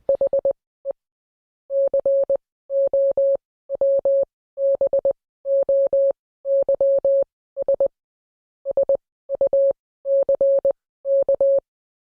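Steady single-pitch beeping tones keyed in short and long bursts like Morse code, separated by brief silent gaps, clean and loud with no other sound.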